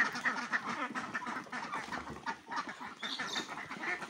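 Khaki Campbell ducks being let out of their shed on a duck farm, several quacking in a busy, overlapping chorus at moderate distance, fairly faint.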